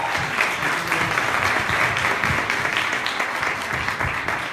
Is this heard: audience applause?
yes